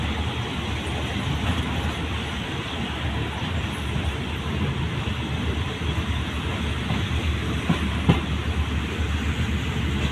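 A train rumbles steadily while entering a siding at Saraburi station in Thailand, with a dense continuous rolling roar and faint wheel clatter, no speech.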